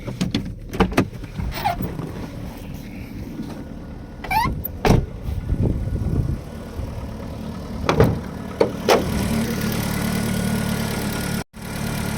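A Volkswagen Golf Mk1 engine idles cold with a steady low hum, interrupted by several sharp clicks and knocks nearby, then settles into a constant drone; it is mixing water into something.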